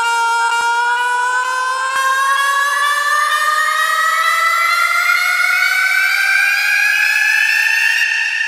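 Vocal riser effect on a texture preset that sounds grainy and digital, a single sustained tone gliding steadily upward for over eight seconds, loud and continuous, with two faint clicks near the start.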